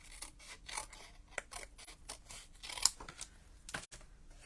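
Scissors snip through patterned paper for handmade card making in a steady run of short, crisp cuts, close up and fairly quiet, with a few louder snips and no voices.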